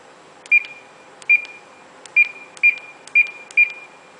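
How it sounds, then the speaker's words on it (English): A ship's GPS trip alarm sounds six short, clear electronic beeps at slightly uneven intervals over a faint steady background hiss, with no voices. "This alarm sounds when the distance run is greater than the trip alarm setting"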